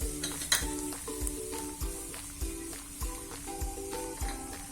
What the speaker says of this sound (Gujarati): કાજુ બદામ પિસ્તા અને ચારોલી તેને આપણે આમાં ફ્રાય કરી લેશું